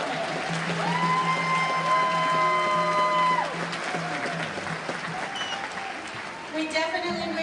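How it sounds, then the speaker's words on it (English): An audience at a 2019 school convocation applauds its principals, with a broad spread of clapping under and around voices that carry on over it before the applause thins out. "let's give our principals again another big round of applause"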